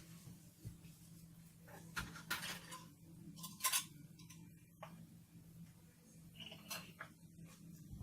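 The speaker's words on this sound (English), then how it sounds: "I shall get my lids" Small lids of homemade whipped body butter and salt scrub jars being handled, light clinks and taps close by in a quiet room, a few sharp clicks standing out against a low background hum.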